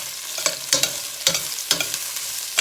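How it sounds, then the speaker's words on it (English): Chopped onion sautéing in olive oil in a pan for a beef liver dish, with a steady soft sizzle broken by several sharp scraping stirs of a utensil against the pan, close and clear, no talking. "So you just basically just saute the onion a little bit in the olive oil."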